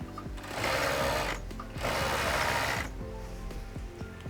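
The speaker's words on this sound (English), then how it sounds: "Just sew it all together." A sewing machine stitches the sides of a soccer jersey together in two steady bursts of rapid mechanical whirring, each about a second long, separated by short pauses with quiet clicks, close up and without speech.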